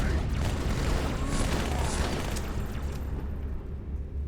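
Battle rifle fire rattles in Halo 2 as a dense run of sharp bursts over loud explosive booms, the burst crackle thinning out toward the end.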